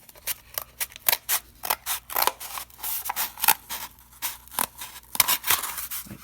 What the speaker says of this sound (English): Take a paper towel roll and cut it in half.